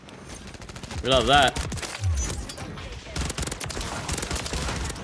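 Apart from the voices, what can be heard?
Rival 9 burst rifle gunfire in Call of Duty MW3 video game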